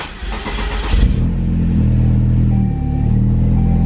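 A Saab 9-3 Arc engine idles steadily after sitting unused for two years, a loud, continuous low rumble close by, with a brief rev swell near the start before it settles into an even, smooth hum.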